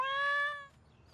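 A cartoon cat gives a single clear, tonal meow in an animated kids' series, close and bright, fading out after about two thirds of a second.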